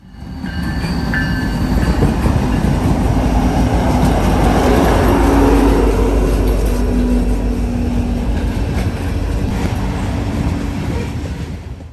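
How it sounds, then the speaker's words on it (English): Loaded westbound grain train led by an SD70ACE locomotive passing close on the Big Four route, a loud sustained roar of rolling wagons that swells and fades slightly over twelve seconds, with faint wheel squeal and horn-like tones. "I'm set up here for a loaded grain train heading westbound with 2-9s and an SD-70"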